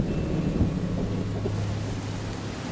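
Steady rain falling with a low rumble of thunder, a continuous wash of downpour with a deep rolling boom underneath, in a documentary about acid rain after an asteroid strike.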